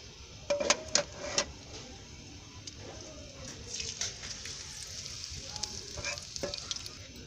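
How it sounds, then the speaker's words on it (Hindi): Cardamom pods dropped into hot ghee give a soft, steady frying sizzle with a few sharp crackles and pops near the start, continuing gently throughout with no talking. "घी हमारा गर्म हो गया है, अब हम इसमें डालेंगे 4 अदद इलायची।"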